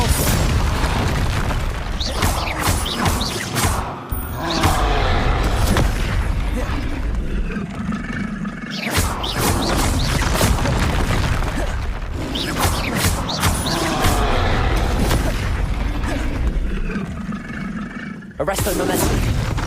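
Confringo explosion spell cast in Hogwarts Legacy, heard as loud, repeated booms and roaring blasts amid continuous busy game action.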